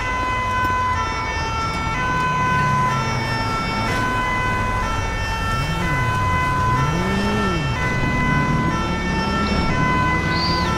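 An ambulance siren in Grand Theft Auto V wails steadily and loud, its rising and falling tone repeating over a constant engine rumble with no talking.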